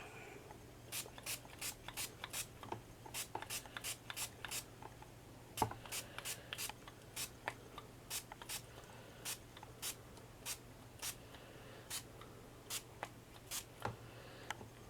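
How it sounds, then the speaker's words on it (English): Short, quick hisses of an orange spray paint can on a pumpkin repeat in bursts over and over, faint and close, with brief pauses between them. "and we need to just spray it."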